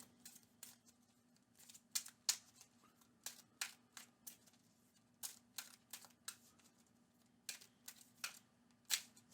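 Playing cards from the Marvel Champions card game are shuffled by hand, giving faint, close bursts of crisp riffling clicks in an uneven rhythm against a quiet background.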